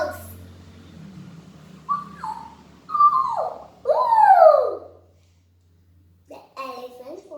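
A voice imitates a fox howling with a few rising and falling vocal whoops, close and fairly loud, ending in a short pause and a brief further sound.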